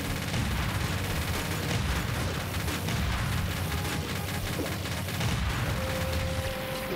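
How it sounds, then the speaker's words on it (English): Tank cannon fire and explosions from the Iron Tank game in Game Builder Garage, firing at a gun emplacement: a dense, continuous barrage of booms and gunfire rumbling throughout, loud and without talk. "That time I drove right up into the gun emplacement and shot at it with the hopes of just focusing on that to blow it up"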